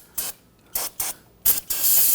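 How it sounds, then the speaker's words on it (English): Short bursts of aerosol solvent spray hiss while cleaning residual coolant from a 2017-2020 Hyundai Elantra 2.0L engine bay after a thermostat housing replacement; four to five separate hissing blasts, the last one longer, close and fairly loud. "Use some spray solvent."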